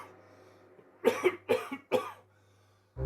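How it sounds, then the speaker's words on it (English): Three harsh coughs in quick succession, close by, between quiet stretches with a low hum. "he developed a constant cough which was worst at night"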